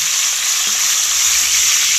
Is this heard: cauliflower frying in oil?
yes